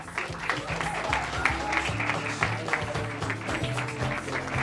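An audience at a youth games torch ceremony applauds after a speech, a steady crowd of clapping hands mixed with music or tonal sounds and faint voices underneath, continuing evenly throughout.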